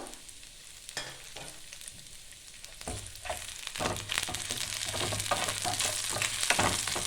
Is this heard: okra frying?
yes